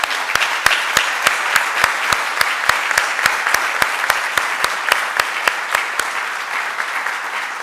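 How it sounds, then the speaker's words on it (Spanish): An audience at a university honorary doctorate ceremony applauds warmly, a steady wash of clapping punctuated by a regular series of sharp, louder claps, fading slightly toward the end. "para quienes pido un fuerte voto de aplauso"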